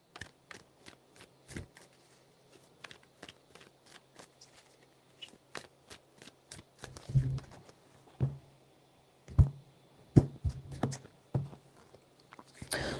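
Crisp, quick riffling and snapping of tarot cards being shuffled close by, in short bursts with brief pauses, growing a little louder toward the end.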